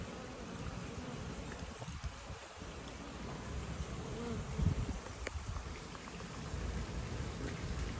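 Honeybees buzz around a sealed trap-out setup on a hive being removed from a structure, a faint continuous drone with soft outdoor background noise.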